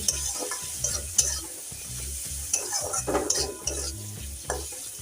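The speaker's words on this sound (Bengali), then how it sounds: "উচ্ছেটা দিয়ে ভালো করে আমি নেড়ে নিয়েছি" Pumpkin, tomato and bitter gourd frying in a pan are stirred with a utensil, giving repeated scraping strokes over a steady close sizzle, with no voices.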